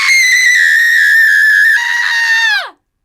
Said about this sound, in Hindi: सिर्फ एक जोर से चिल्लाने की आवाज गूंजी।